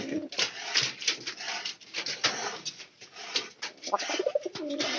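Pigeons cooing in a loft with young squabs, repeated soft throaty coos in close, overlapping bursts with brief gaps.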